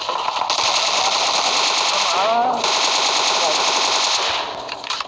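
Rapid continuous automatic gunfire from a mobile shooter game played in classic mode, loud and sustained, tapering off at the end.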